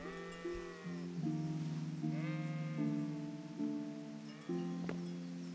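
Sheep bleat repeatedly in the medieval open-world game Kingdom Come: Deliverance, several overlapping calls close by, each a wavering, nasal tone, with brief pauses between them and no talking.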